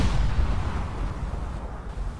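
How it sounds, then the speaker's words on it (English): Ship cannons fire in the Roblox game Warships, giving heavy, booming low-end blasts that roll into a rumbling decay, close and loud with no voices over them. "Fire mini cannon."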